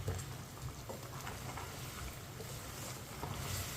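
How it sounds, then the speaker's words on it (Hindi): Meat for a Shinwari karahi frying in a pan while a spoon stirs it, giving a steady, close sizzle with faint scraping throughout and no voices. "इसे ऐसे ही चम्मच चलाते हुए 5 मिनट के लिए भूनना है"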